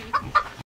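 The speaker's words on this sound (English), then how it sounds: "And then there's a chicken." A chicken gives a couple of quick, close clucks on a farm, short and distinct over quiet background noise.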